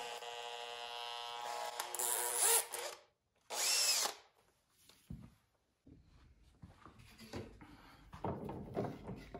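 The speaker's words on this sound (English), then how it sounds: "We can put this in the drill and smooth those smaller holes." Electric drill spinning a curled strip of sandpaper to smooth small holes, heard as a few loud buzzing whirs that start and stop abruptly, with quieter handling noise between them and no talk.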